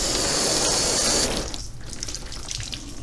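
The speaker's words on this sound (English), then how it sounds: "See how the water just sheets right off the paint?" Water runs and sheets off waxed black car paint in a steady close gush, a bright spray for the first second that then softens to a lighter continuous trickle, with no talking.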